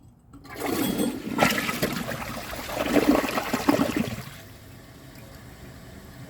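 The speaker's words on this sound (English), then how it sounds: "So let's give this a flush and see how it does on tests." A Project Source Pro toilet flushing close up: a loud rushing surge of water for about four seconds, then a quieter trickle as the tank refills.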